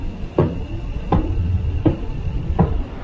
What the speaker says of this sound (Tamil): இதுதான் பல்சாருடைய சத்தம்.